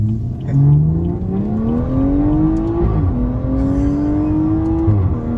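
A BMW 340i engine revs up through rising pitches with quick shifts between them, loud and close, pulling hard through Pretoria with no talking.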